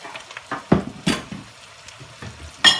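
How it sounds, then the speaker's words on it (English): Seasoned beef dropped into a hot Dutch pot for Trinidad stew beef, giving a few sharp sizzling bursts and clinks of a utensil against the pot between quieter moments. "In we go with the beef."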